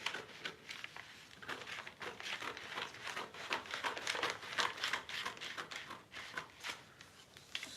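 Continuous crisp rustling and crinkling as fabric pieces for a bustier are handled and cut, close and fairly soft, with no talking.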